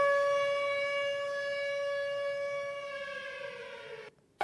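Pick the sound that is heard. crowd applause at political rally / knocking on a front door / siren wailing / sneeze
siren wailing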